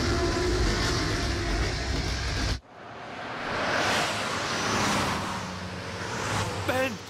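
A train rumbling along, a loud steady roar that cuts off abruptly and then returns as a softer, swelling rumble.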